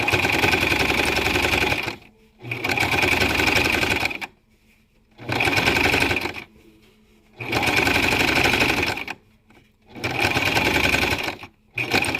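A sewing machine back-stitches fabric for a 3D mask in four loud, close bursts of rapid stitching, each a couple of seconds long, separated by short quiet pauses.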